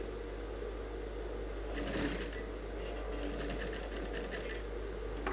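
A sewing machine stitches a suit sleeve in two quiet bursts of rapid mechanical chatter, a short one and then a longer run, over a low steady hum.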